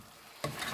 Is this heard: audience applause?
no